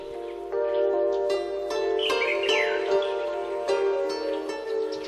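Birds calling in a spring forest along an old canal village by the Yangtze, a few clear chirps and short warbling phrases over a steady tonal hum, moderately close and spaced out.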